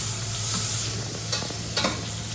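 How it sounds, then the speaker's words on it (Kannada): Fish frying in a home kitchen pan gives a steady, close sizzle, with a low hum underneath and a few brief clatters of stirring near the end. "ಇಲ್ಲಿ ಫಿಶ್ ಫ್ರೈ ಆಗ್ತಾ ಉಂಟು."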